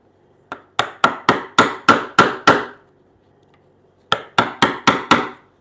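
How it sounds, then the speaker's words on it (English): Hammer striking a chisel into wood in a woodworking shop while cutting timber-frame toy blocks: a quick run of about seven sharp, evenly spaced knocks, a pause, then five more close and clear. "I might even get a smaller chisel here."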